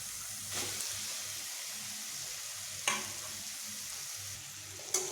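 Fried long beans and potatoes being stirred into a spice paste in a pan, a steady low sizzle with occasional scraping stirs, close and moderately quiet, no talking.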